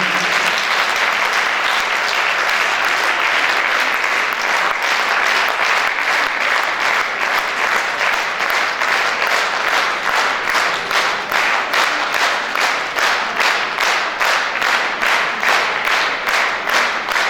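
Sustained applause from a large audience, steady and loud, gradually turning into rhythmic unison clapping toward the end.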